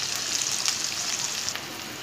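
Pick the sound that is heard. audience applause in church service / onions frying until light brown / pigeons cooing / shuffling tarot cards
onions frying until light brown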